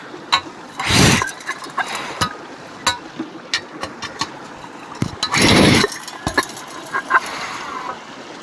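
A small water pump engine runs beside a gold sluice, a steady low drone broken by two louder rushing bursts, with scattered clinks and knocks close by and no talking.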